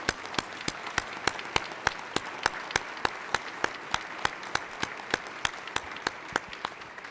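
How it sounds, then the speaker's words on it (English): Applause fills a legislative chamber floor honoring Vietnam veterans, with many hands clapping in a dense, even patter that stays steady for several seconds with no talk over it. "And can we give him a round of applause, Gene?"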